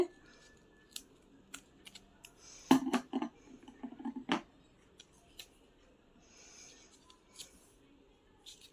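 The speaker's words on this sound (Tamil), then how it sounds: "தேவையான அளவு ஒட்டிட்டு சிசரில் வந்து கட் பண்ணி எடுத்துடுங்க." Scissors snip through paper craft material for a lotus coin bowl, a handful of short, crisp cuts with a brief cluster of louder snips in the middle, quiet and close with soft handling noise between.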